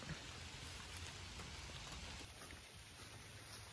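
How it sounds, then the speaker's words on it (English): Rain falls on a forest during fall, a faint, even wash of drops pattering on leaves and ground, steady throughout with no voices. "It is just raining on us"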